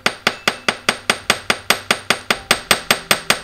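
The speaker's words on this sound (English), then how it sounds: "As I hammer away." Steady hammer strikes on jewelry, about fifteen sharp metallic taps in a quick, even rhythm, close and loud with no talking.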